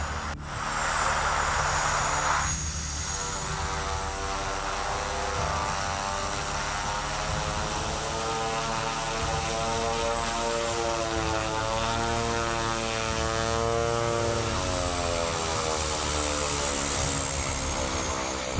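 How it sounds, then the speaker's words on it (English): A Twin Otter twin-engine propeller aircraft lands on deep, wind-drifted snow atop a frozen lake in remote northern Saskatchewan, its steady, loud propeller drone shifting in pitch as it touches down, with no talking. "A Twin Otter aircraft is captured, skillfully landing on deep snow and wind-sculpted drifts atop a frozen, ice-covered lake"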